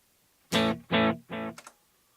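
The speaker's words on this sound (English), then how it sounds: "the delay trails were off, so now they're going to be on. And they keep going" Three distorted guitar chords ring out in quick succession, each cutting off sharply, followed by a faint, brief trailing echo from a delay effect with trails on.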